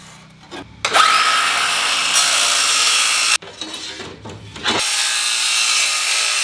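A piece of aluminum is cut with a power tool in a sustained loud grinding, rasping run, a brief break and then a second long cutting pass; no talking.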